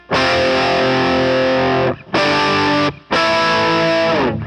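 Electric guitar with heavy distortion plays a power chord with an added fifth, struck three times. Each chord rings loud and sustained, the first held longest, with short gaps between, and no talking.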